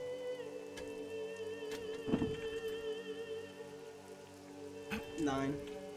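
Steady rain patters on a surface under a constant background hum, with a few brief knocks and a voice-like sound near the end.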